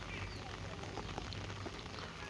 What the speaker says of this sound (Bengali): এখন বৃষ্টি শুরু হয়েছে